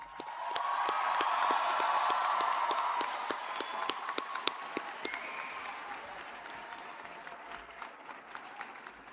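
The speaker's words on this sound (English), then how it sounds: "we have to give ourselves one more big round of applause" Large audience applauding at a college convocation ceremony, a dense sustained wash of clapping that swells early then thins into scattered individual claps.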